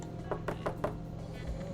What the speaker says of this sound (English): You're supposed to show me the knock.